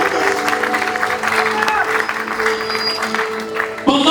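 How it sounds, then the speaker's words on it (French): A church congregation claps loudly and steadily at a French-language service, with dense applause under a held musical tone and a voice cutting in near the end. "Acclamons fortement pour la gloire de Dieu"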